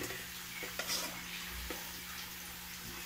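Frog adobo simmering in coconut milk gets stirred in a pan, with a soft ongoing sizzle, a few light scraping strokes and small utensil knocks against the pan, fairly quiet.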